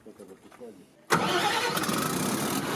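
A diesel generator set from a new delivery for northern Yakutia power stations makes a test start: quiet speech, then a sudden loud engine burst at about one second that settles into a steady, dense running roar.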